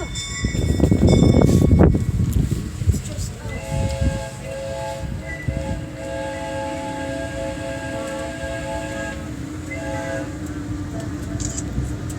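A tourist train rolls along, a steady low rumble of wheels and cars with a loud burst near the start and a sustained horn or whistle tone sounding through the middle, no voices.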